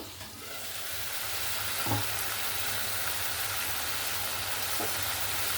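Bottle gourd and chickpeas cooking in a pan, an even, dense sizzle and bubbling heard close, with a couple of soft knocks as the lid comes off.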